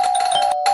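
An electronic doorbell rings loudly and close with a steady sustained tone, briefly cutting out before sounding again.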